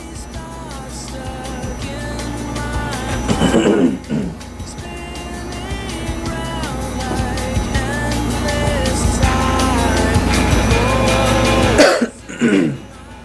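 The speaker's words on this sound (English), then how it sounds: "I'm having such a problem here with clearing my throat" A commentator's two rough throat-clearing coughs break through a loud, continuous musical background during an esports tournament match, one midway and one near the end.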